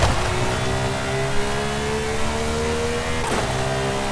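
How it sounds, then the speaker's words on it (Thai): A V12-swapped Lamborghini Huracan STO holds its engine at very high revs, a loud, close, sustained harmonic scream with only slight dips in pitch and no pauses. "รอบจัดอยู่นะครับ"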